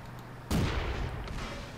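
A tank cannon fires in World of Tanks, a single loud, close boom with a rumbling decay, heard alone.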